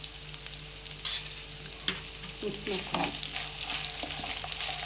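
Green chili, garlic and ginger-garlic paste fry in a hot pan for a banana flower palya, a steady close sizzle broken by sharp stirring scrapes and clinks of a spoon.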